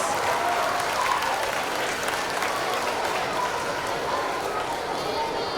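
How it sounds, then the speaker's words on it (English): Applause for Jasmine at an elementary school reading challenge event, a steady crowd clapping that holds evenly throughout, with some voices mixed in. "Let's give Jasmine a big round of applause"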